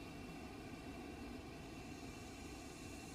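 An airliner in the video game Microsoft Flight Simulator 2020 taxis along, its engines giving a steady, even low drone with a broad whooshing hiss that holds constant throughout, with no talking.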